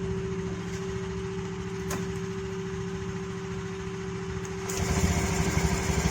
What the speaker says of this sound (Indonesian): Langsung nyala ya starternya.